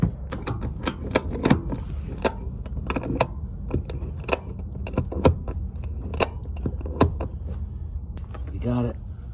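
A tie-down strap on a towed 1932 Chevy is buckled, giving a run of sharp metallic clicks and rattles with a short ratcheting buzz near the end.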